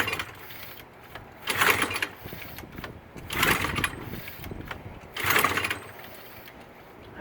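Small engine pull-started with the choke off: three sharp recoil-cord pulls, each a brief loud sputtering burst, spaced about two seconds apart against a steady background hum, with no sustained running.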